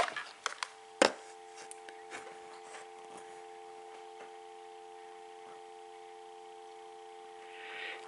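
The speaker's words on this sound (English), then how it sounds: "Can you hear the dial tone perfectly?" Steady landline dial tone from a Coby CTP-100 telephone, a continuous hum that holds for several seconds after a few handset clicks and one sharp knock at the start.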